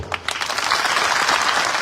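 A crowd at a large rally addressed by Manoj Jarange Patil bursts into loud, steady applause, clapping continuously and densely throughout.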